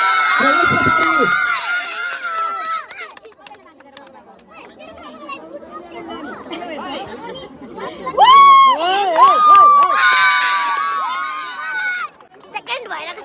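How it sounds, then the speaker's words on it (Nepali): Crowd noise at a ward football cup award ceremony, with cheering and children's shouts swelling in bursts above steady murmur and talk, loudest near the end. "जोड्न तालीले सम्मान गराउँ"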